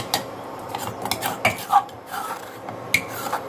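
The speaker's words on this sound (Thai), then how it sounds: "ทำความสะอาดครกต่อ" A stone mortar rinsed out with water: clattering knocks and scraping clinks of stone and utensil, irregular and close, with short splashy bursts, no talking.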